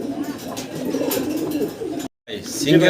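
Lahori and Stesar pigeons for sale at a market coo softly and continuously at close range, mixed with a busy crowd murmur and a brief dropout.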